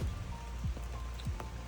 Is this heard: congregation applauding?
no